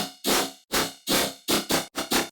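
A gritty Serum dubstep synth bass plays a repeating quarter-note pattern of short, punchy notes, with a couple of quicker hits near the end, loud and without other sounds.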